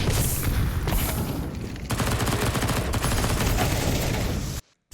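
Rapid gunfire from shooting in the video game Counter-Strike 2, loud sustained bursts filling the whole stretch, then cutting off abruptly near the end, with no voices.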